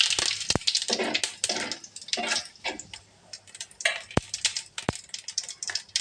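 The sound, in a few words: cumin seeds crackling in hot oil for tempering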